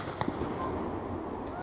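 Fireworks go off in a backyard near a shed and a pool. A faint crackling hiss fills the background, then one sharp, loud bang lands at the very end.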